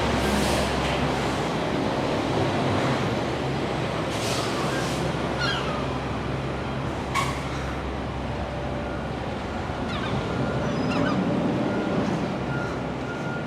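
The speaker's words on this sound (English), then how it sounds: "Seagulls are making their noises." Seagulls call intermittently over a steady, noisy New York City street background with a low hum.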